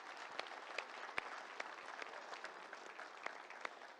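An audience claps in sustained applause at an innovation and entrepreneurship event, a dense, steady patter of many hands with a few sharper individual claps standing out.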